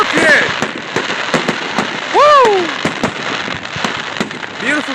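Fireworks bursting on July 3rd, a rapid string of sharp cracks and pops with some whistling rising tones, loud and close, while a person whoops and cheers over them.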